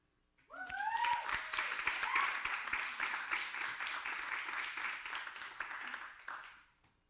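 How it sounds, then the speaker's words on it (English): Audience applause welcoming a speaker at an interactive narrative conference, a burst of clapping that starts abruptly, stays steady, then fades out, with a brief voice heard near the start. "Let's welcome Miriam with an applause"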